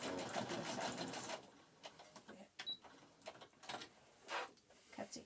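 A sewing machine stitches fabric for a face mask in short whirring runs that stop and start, some back-and-forth reverse stitching, close by with small mechanical clicks between the bursts.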